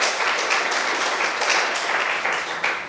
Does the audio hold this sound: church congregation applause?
yes